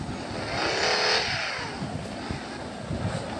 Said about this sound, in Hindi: और बाकी यार गाड़ी का साउंड सुनो काफ़ी अच्छा।